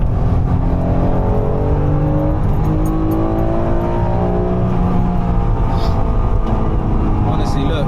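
A 1991 Honda NSX mid-engine sports car accelerating from inside the cabin: loud, steady engine drone with rising harmonic sweeps as it gains revs, with a voice talking over it.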